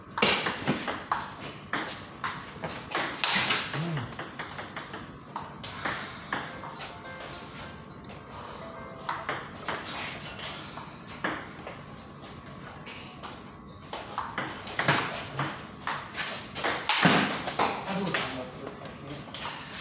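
Table tennis ball clicking sharply off paddles and the table in a rally, brief bright pings scattered throughout, with people talking and calling out over the play.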